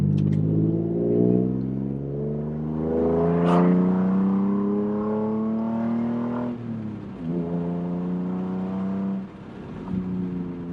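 A VW Polo's engine and exhaust accelerate hard in a long, steady pull with a droning note that rises continuously, eases briefly around a gear change, then climbs again, loud and close throughout.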